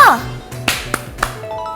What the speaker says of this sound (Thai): ปรบมือแปะแปะ แล้วมือถือส่งเสียงร้อง ส่งสัญญาณแจ้งเตือนกลับมาได้